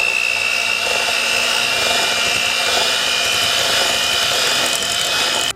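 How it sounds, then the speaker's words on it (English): An electric mixer beating Neufchâtel cheese and sugar in a bowl for a no-bake raspberry cheesecake, a steady loud whirring motor whine that runs unbroken and cuts off at the end. "We're going to beat up the cheeses and sugar."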